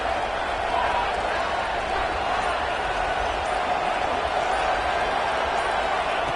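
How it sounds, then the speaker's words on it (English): Steady roar of a stadium crowd at an American football game, a tough environment for visitors, a dense continuous wash of noise held at an even level throughout. "Listen to the crowd energy here in the early going."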